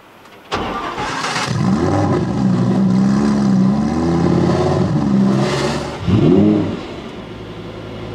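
An ABT XGT with a V10 engine bursts to life and revs, its deep, loud growl rising and falling in several sweeping throttle blips before a final sharp rev and settling.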